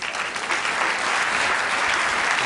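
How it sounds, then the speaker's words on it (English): Steady audience applause for volunteers being called onto a stage at a live mental-math show, a dense, even clatter of many hands clapping that holds at full strength throughout with no voices over it. "let's give these volunteers a nice round of applause"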